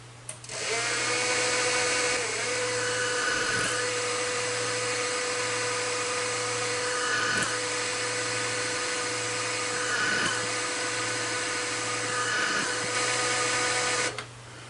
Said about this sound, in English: I'm just going to drill 3 or 4 of these 1/2 inch on center